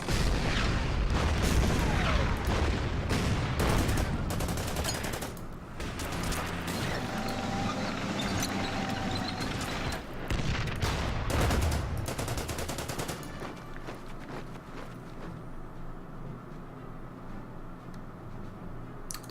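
Gunfire and explosions in the Order of Battle: Panzerkrieg strategy game, Kharkov 1943 battle, with dense overlapping shots, bursts and booms throughout, easing into quieter rumbling in the last few seconds.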